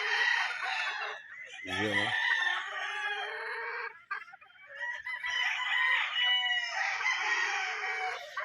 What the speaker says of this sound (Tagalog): Guwapang manok.